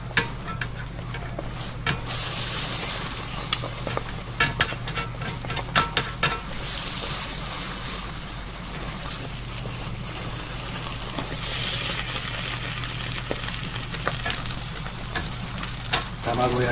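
Beaten egg sizzles and fries steadily in a tamagoyaki pan, a close continuous crackle broken by light scraping and stirring taps, with a voice speaking softly at times.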